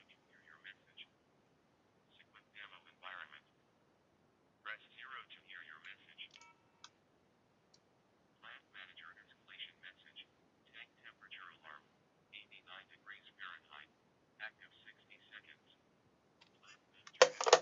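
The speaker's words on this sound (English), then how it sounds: "hopefully you could hear that message coming through the telephone there" A text-to-speech alarm notification from SeQent alarm software playing through a telephone call, a thin band-limited synthetic voice in short bursts with pauses, faint and tinny.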